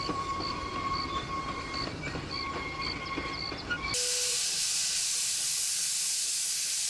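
A Disneyland steam train running with its Combine car, the wheels clattering and squealing steadily up close, then a sudden loud hiss of released steam takes over.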